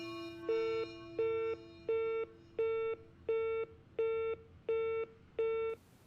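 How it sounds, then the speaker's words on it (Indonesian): Telephone busy signal after a call cuts off: eight evenly spaced, steady electronic tones, loud and close, alone with no voices. "sambungan telepon terputus begitu saja"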